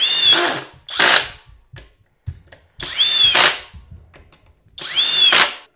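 A Flex 24-volt drill-driver with a 5 amp-hour battery, set to speed 3, drives timber screws in three loud whirring bursts, each rising and ending sharply, separated by short quiet gaps.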